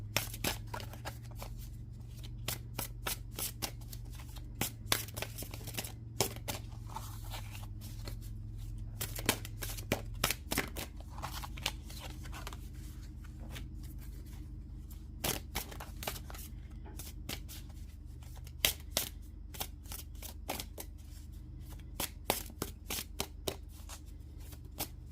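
Tarot cards are shuffled steadily and close up, a dense run of crisp riffling clicks and snaps over a low, constant hum, with no talking.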